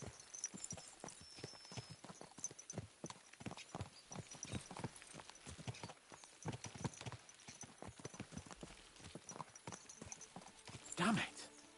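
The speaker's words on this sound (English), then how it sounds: "Let's really spur these horses on, eh?" Horses' hooves clip-clop in a quick, steady rhythm on hard ground in a medieval-style video game, continuous and fairly close, with a brief whinny-like burst near the end.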